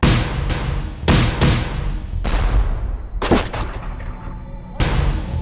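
Cannon blasts and gunfire ring out in a reenacted Revolutionary War battle, with several heavy booms spaced a second or two apart, each trailing off in a long rumbling decay, loud and close.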